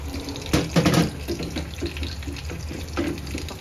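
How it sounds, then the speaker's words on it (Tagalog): Water runs from a kitchen tap into a cooking pot: a steady close splashing stream, louder and fuller in the first second, then an even flowing rush with no talk. "Lagyan ko na ng tubig."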